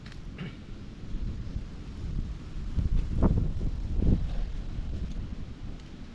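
Wind blowing across a microphone outdoors, a low, rough rumble that swells and buffets in gusts through the middle, fairly loud with no voices.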